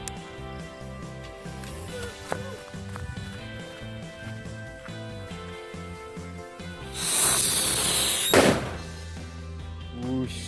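Over background music, a Whistling Thunder firework lets out a shrill whistling rush that ends in a sharp bang.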